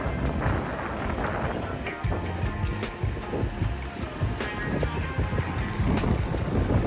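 Surf washes onto Durrës Beach in Albania in a steady, loud seaside roar, with wind buffeting the microphone and faint clicks on top, and no voices.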